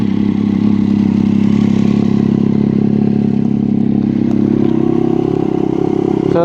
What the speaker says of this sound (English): So when you start the bike, you hold the clutch and then you do this.